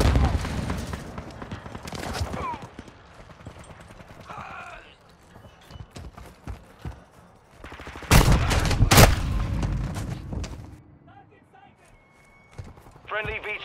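Bursts of gunfire from Call of Duty Modern Warfare II, with repeated loud shots and a dense volley near the middle, mixed with game effects and voices speaking throughout.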